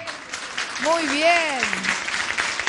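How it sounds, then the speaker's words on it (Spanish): Crowd applause breaks out for Héctor, a student heading to study engineering, at an outdoor videoconference gathering in Capitán Sarmiento, a steady wash of clapping running under a voice speaking briefly over it. "Un aplauso para Héctor, que va a estudiar ingeniería"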